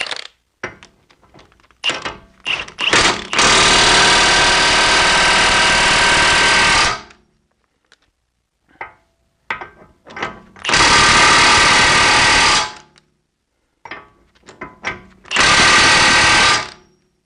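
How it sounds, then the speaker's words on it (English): A BMW E46 front wheel bearing is driven home by tightening its nut: three loud, sustained mechanical buzzing bursts a few seconds long each, separated by short clanks, taps and silence, close by with no speech. "So you use the nut to drive the bearing on all the way home."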